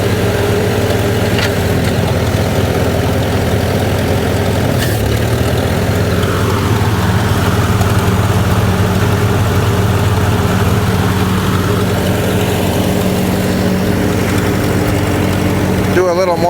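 Gehl 4400 skid loader with its engine running steadily while the bucket is operated, a loud continuous drone with a slight rise and fall as the hydraulics work.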